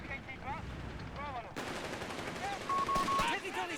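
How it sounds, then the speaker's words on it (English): Machine gun bursting in a WWII strategy game, dense crackling rapid fire that swells loud partway through, with a tank-like rumble and a voice chatting over it. "Oh, they got their machine gun."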